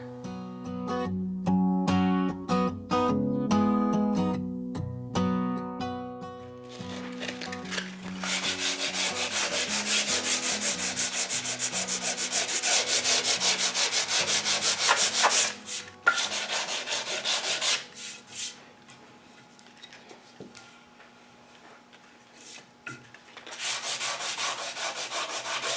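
A milled maple block sands the wooden stock of a Winchester Model 88 lever-action rifle, producing long, close rasping rubs that fade and return in bursts, with no talking.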